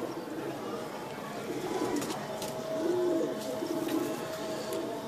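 Soft low pigeon coos surface in short rolling phrases amid a steady background hum and faint clicks, close but not loud.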